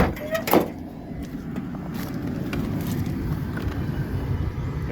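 A car's AC blower fan on a GM G-body runs steadily after being cleaned and reassembled, a continuous low whooshing hum with a few faint clicks near the start.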